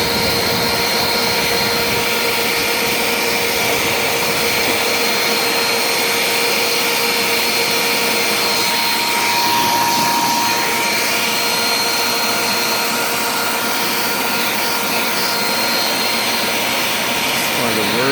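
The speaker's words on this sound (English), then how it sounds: "Strong vacuum too." A strong vacuum cleaner runs steadily as it cleans out the evaporator of a portable air conditioner, a loud, close, continuous whining roar with a high tonal hum throughout.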